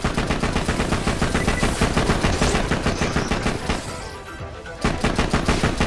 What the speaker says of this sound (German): Diese Scheißdinger, ne? Diese Geschütze hier. Ah, die schütten ja auf!